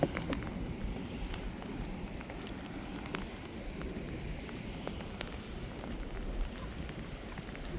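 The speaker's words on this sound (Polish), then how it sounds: "Pada." Steady rain falls on a rainy day in Portugal, near a lighthouse and a surfing beach, making a continuous broadband hiss with scattered drop taps throughout, fairly loud and without any talk.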